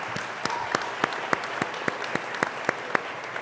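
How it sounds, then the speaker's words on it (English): Audience applause at a gala evening, a steady wash of clapping with sharp individual claps standing out at regular beats over a fairly quiet room, sustained through the whole stretch. "So a big round of applause for them."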